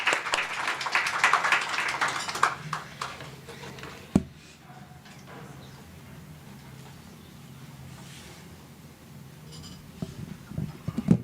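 Audience applauding at an indigenous knowledge seminar as a speaker is welcomed: a dense burst of clapping for about three seconds, then fading into quiet room tone.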